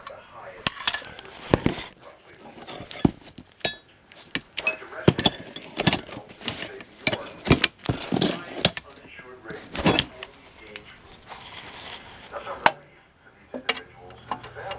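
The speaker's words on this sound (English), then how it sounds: "Luckily I have my long ratchet." Long ratchet cranking loose the torque converter bolts on a 282,000-mile, low-compression 1992 K2500 truck engine during transmission removal; a series of irregular metallic clicks and clanks, close and fairly loud, with brief pauses between bursts.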